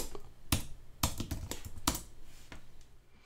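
Computer keyboard typing while writing code in Unity, a handful of sharp separate key clicks spaced irregularly over a few seconds, close and clear against a quiet background.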